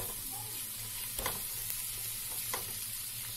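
Spices for chicken bhuna masala frying in a pan while being stirred: constant sizzling hiss with a few sharp scraping strokes of the spoon, close and continuous, with no talking.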